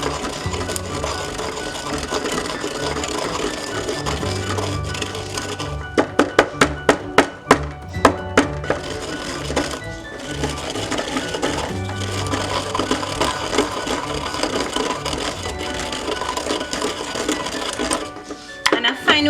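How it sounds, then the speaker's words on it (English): Cumin, fennel, cardamom and coriander being ground for an eggplant and potato curry: a steady, harsh grinding whir with a cluster of rapid rattling pulses partway through, then continuous churning. "We're going to be using also 2 cardamom and coriander. So we're going to grind them."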